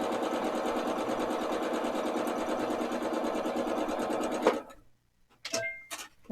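A sewing machine stitches a quarter-inch quilt seam with a steady, rapid mechanical whirring hum for about four seconds before stopping, followed by a few brief clicks and handling noises, close and clear.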